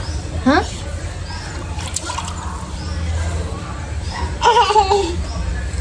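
A baby splashes water beside someone washing dishes, with bursts of baby laughter and babbling over running, splashing water while an adult talks.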